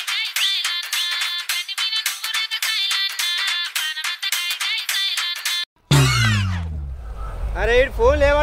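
A mobile phone ringtone repeats steadily for several seconds and goes unanswered, then cuts off abruptly as a voice speaks up in a village setting.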